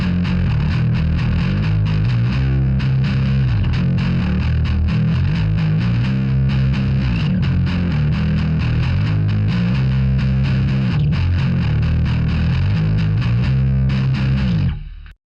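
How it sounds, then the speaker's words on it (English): A heavily fuzz-distorted bass guitar plays a repeating riff from a song, thick and gritty, continuously until it cuts off abruptly at the end. "you can hear the bass actually has quite a bit of fuzz on there as well"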